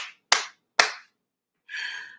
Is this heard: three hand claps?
yes